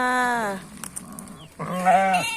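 Sheep bleat at a goat and sheep farm in the morning. Two loud, wavering calls come close by, separated by a short pause.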